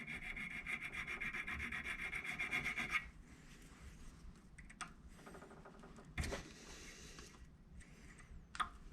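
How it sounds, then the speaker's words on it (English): A metal file rasps at aluminum stuck in the threads of a 2006 Honda Accord starter motor. A quick, dense run of gritty strokes lasts about three seconds, followed by quieter scattered scrapes and taps, all close and faint, with no talking. "I'm hoping that with the file, it's going to go through the aluminum first"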